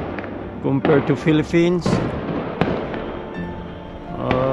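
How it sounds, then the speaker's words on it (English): New Year fireworks let off by a family in Gujarat, India: a sharp pop stands out partway through, with a few fainter bursts around it, all under close conversational talk. "This family, they are playing fireworks."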